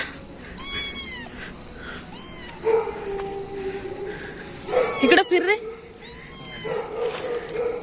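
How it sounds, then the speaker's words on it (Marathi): A cat yowls in several drawn-out, wavering cries, close by, with a person speaking briefly between them. "बोंबलं मांजर"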